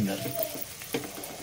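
Onions sautéing in a pan for desi-style matar paneer, a steady soft sizzle and crackle with faint stirring scrapes, close and moderate in level, with no talk over it.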